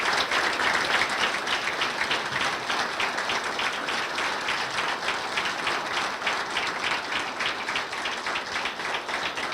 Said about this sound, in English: A round of applause for these fine candidates